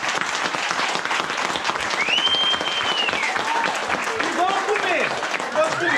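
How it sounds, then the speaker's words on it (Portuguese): Applause from a family New Year's Eve gathering of travelers, a thick continuous clapping with overlapping whistles and voices on top, loud and close throughout. "Uma salva de palmas para nós, né?"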